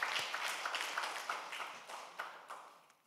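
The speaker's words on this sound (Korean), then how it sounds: "박수로 감사의 마음을 전하겠습니다." Church congregation applauding during a Sunday service, a quiet, distant patter of many hands with scattered individual claps standing out, fading gradually toward the end.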